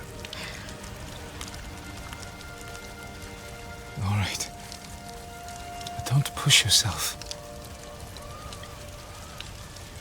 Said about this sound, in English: Perfect time to start raining.